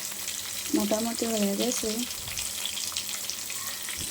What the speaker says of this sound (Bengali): এখানে আমি মাছ ভাজা বসিয়ে দিয়েছি।